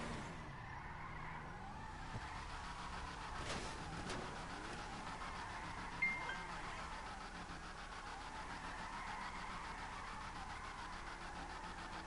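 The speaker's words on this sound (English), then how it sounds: "It's just drifting." A Mamba car drifting in GTA Online, steady engine drone with tire squeal and skid noise running throughout, fairly faint and without talk.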